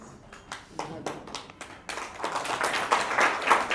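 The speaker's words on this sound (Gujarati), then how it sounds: "દીપ્તિબેન માટે જોરદાર તાળીઓ" Audience at a book launch applauds for Diptiben: a few separate claps at first, then building into dense, continuous clapping from a small crowd in an indoor hall.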